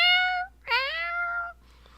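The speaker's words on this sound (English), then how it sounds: "Your cat says hi." A house cat meows twice up close, a short clear call followed by a longer drawn-out one with a falling tone, and nothing else around it.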